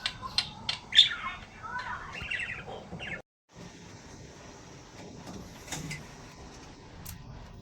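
A pet parrot gives several sharp squawks and chirps close by indoors, bunched in the first few seconds, then falls quiet under faint room noise and a soft knock.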